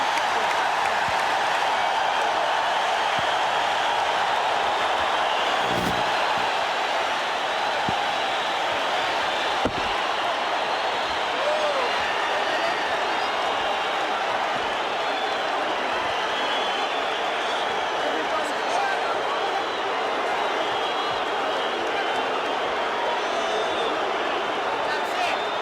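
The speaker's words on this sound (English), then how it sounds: "Listen to the crowd." A boxing arena crowd roars and cheers at the end of the Bramble vs Mancini fight, a dense, sustained wash of cheering and applause that holds steady throughout, with voices mixed into the noise.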